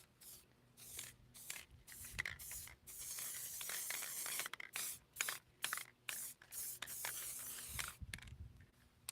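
Short hissing bursts of an orange spray paint can, released in repeated spurts with brief pauses between them, close by.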